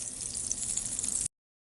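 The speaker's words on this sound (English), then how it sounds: "The bacon sizzled in the pan." Bacon frying in hot oil in a pan gives off a steady, bright hiss of sizzling with fine crackles, moderately quiet and continuous for just over a second before stopping.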